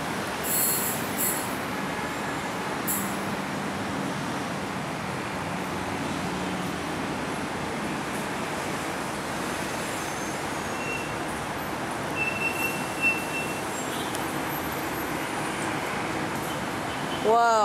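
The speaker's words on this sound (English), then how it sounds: "Right, this is the 546" A six-car train in two sets of three passes close by at sunset with loud, continuous wheel squeal and rumbling rail noise throughout, with sharp screeching bursts near the start and end.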